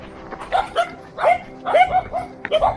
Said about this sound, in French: Alors ici, il faut faire attention aux chiens. Il y a beaucoup de chiens.